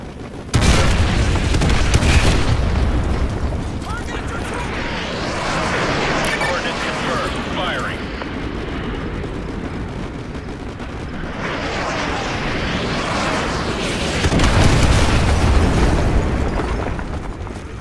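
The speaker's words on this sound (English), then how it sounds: "Fire mission received. Artillery inbound." An artillery strike in Call of Duty Modern Warfare lands as a long roll of heavy booming explosions, loud and close, swelling at the start and again near the end, with a steady rumble between.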